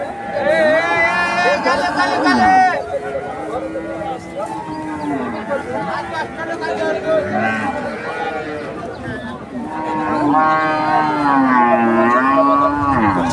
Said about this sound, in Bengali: অনেক বড় বড় সাইজ রাজশাহী ছিটিয়া হাটে মাংস উপযোগী মহিষ কিনতে পাওয়া যায়